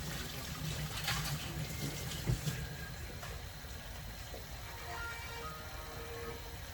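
Tap water running steadily while a preserved lemon is rinsed, a soft, continuous splashing stream with a small knock partway through, faint and without speech.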